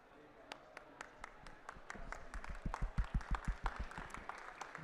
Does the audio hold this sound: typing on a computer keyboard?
no